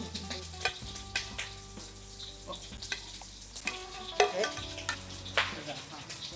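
Beef belly cooks in a pan with a continuous sizzle and busy stirring and clanking, utensils scraping in irregular bursts close up.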